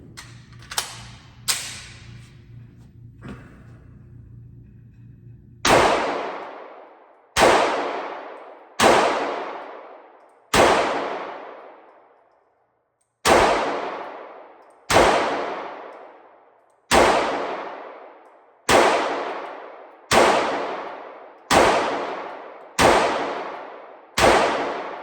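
A Sig Sauer P365 AXG Legion pistol with a 21-round magazine fires about a dozen loud, sharp shots at an unhurried, slightly uneven pace, each ringing out in an echoing decay, after a few lighter handling clicks.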